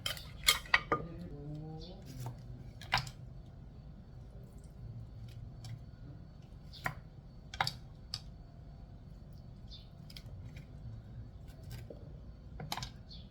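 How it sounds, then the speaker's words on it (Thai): Utensils clink and scrape against a bowl while tossing a spicy Thai coconut shoot salad with crab and fermented fish, giving sharp scattered metallic taps over a steady low kitchen hum. "แล้วก็คลุกเคล้าให้เข้ากันนะคะ"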